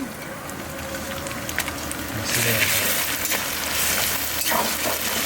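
Ground cumin paste drops into hot oil in a pan partway through, and a soft background sizzle swells into a louder, fuller frying hiss that carries on steadily to the end.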